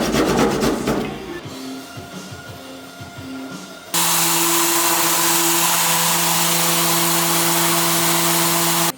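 A wooden Adirondack chair is sanded, first with scattered scraping and rubbing strokes, then with a loud, steady whirring power-sander drone that runs close and alone to the end.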